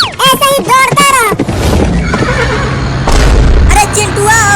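A horse lets out a loud whinny up front, then a rumbling rush of movement follows with a second whinny near the end, voices shouting throughout in a rural comedy race.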